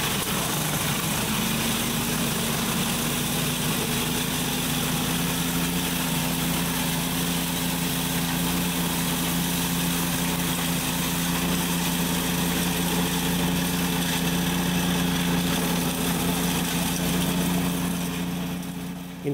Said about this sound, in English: start a self-feeding motion, bringing that material down the chute and into the chipper